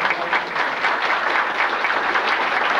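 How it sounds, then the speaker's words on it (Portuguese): Steady applause from an audience at the installation ceremony of a federal small-claims court section in Ponta Grossa, a dense, even wash of clapping lasting the whole moment with no voices. "merecem até uma salva de palmas"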